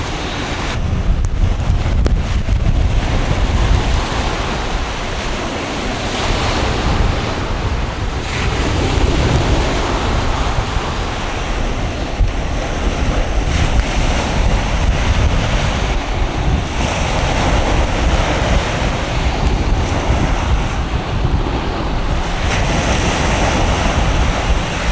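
Surf rolls steadily onto a small, clean white-sand beach in Ireland, a continuous broadband wash of breaking waves with wind buffeting the microphone throughout, loud and close with no voices.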